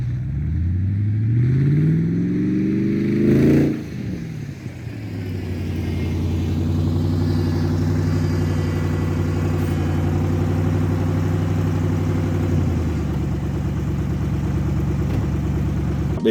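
A DriftStang Mustang engine runs steadily after a burnout, droning loud and close with a brief rev near the start, then settling into a constant rumbling tone as the car reverses and backs up, with no talking.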